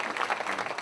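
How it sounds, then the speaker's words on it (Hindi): An audience claps to welcome a guest at a 2012 Hindi poetry gathering in Delhi. The applause is a short burst, soft and somewhat distant. "एक बार तालियों के साथ स्वागत कर दीजिए"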